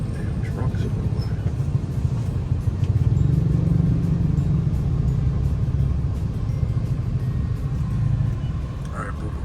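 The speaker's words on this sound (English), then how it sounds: "Damn trucks everywhere." Trucks pass on a road in a steady heavy rumble of engines and tyres that swells slightly midway, heard continuously with wind-like noise and possible faint voices underneath.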